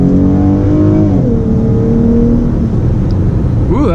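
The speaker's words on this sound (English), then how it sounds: "That was my first little acceleration there." A loud 2017 Dodge car engine with an aftermarket cold air intake rumbles and rises in pitch as it accelerates in sport mode, then settles into a steady drone before revving again at the end.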